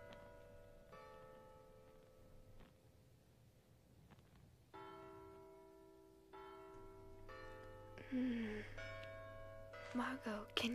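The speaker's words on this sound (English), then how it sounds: "can you hear the church bells?" Church bells ring at a distance in an animated film, sustained tones overlapping and fading, fairly quiet, with some clattering noise toward the end.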